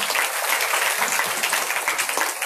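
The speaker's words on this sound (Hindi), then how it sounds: "उनके लिए ताली बजा दें।" Audience clapping steadily throughout at a Srimad Bhagavatam katha gathering in Noida, dense and even with no clear pauses.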